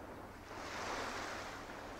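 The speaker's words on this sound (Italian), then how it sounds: "i ritmi delle onde." Sea waves breaking on a beach, a steady broad wash of surf that swells and holds, with some wind noise and no voices.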